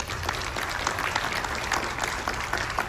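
Audience applause from a crowd at a Terrifier horror convention panel during Days of the Dead in Atlanta, a steady wash of clapping that continues at a fairly even level throughout.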